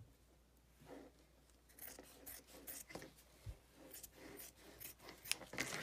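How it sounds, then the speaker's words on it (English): Scissors cut along the folded edge of felt, a quiet, close series of crisp snipping and rasping strokes in an uneven rhythm that grows busier toward the end. "And then you're gonna cut it along the folded side."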